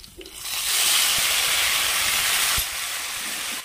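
Shallots and curry leaves hit a hot pan for Kerala-style mushroom masala, setting off a loud, steady hiss that swells quickly, holds for about two seconds, then drops to a softer sizzle.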